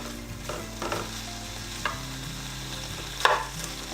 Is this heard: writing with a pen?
no